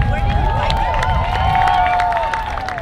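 An outdoor crowd at a peace march claps and cheers for a band, dense applause with a few whistles and shouts rising over the murmur.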